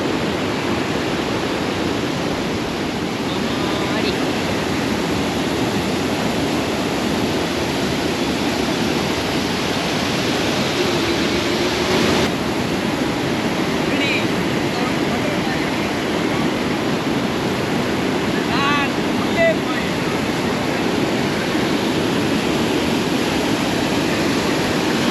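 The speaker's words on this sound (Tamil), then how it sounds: "மொத்தத்தில் இந்த கொசஸ்தலை ஆற்றுல பொசன்னு தண்ணி வருது." Water gushes over the Thamaraipakkam check dam on the Kosasthalaiyar river in a loud, continuous broadband roar, with steady rushing turbulence and no pauses, heard close by.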